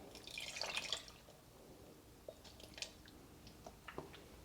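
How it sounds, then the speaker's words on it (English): Honey ginger marinade pours into a bag of raw pork chops, a brief wet splashing gush at the start followed by faint scattered drips and soft squelches, quiet and close with no talking. "Going to pour half the marinade in each bag."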